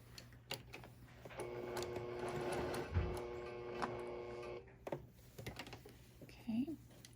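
A sewing machine top-stitches across a fabric shopping bag in one continuous whirring run of about three seconds, with scattered clicks and handling noises before and after.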